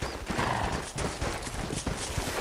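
Horses in the Red Dead Redemption video game, hooves clip-clopping on ground with a neigh, close and continuous over a faint background of game ambience.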